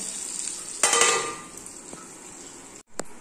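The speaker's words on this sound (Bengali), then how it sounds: "আলু ভাজা হচ্ছে, হয়েই গেছে।" Potatoes fry in a pan with a steady, even sizzle and a brief brighter crackle partway through, plus a couple of faint clicks near the end.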